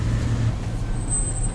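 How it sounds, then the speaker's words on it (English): Road traffic in the video game Burning Daylight, a steady close engine drone with a low rumble of vehicles passing and a brief high whine near the end. "Cars are passing us."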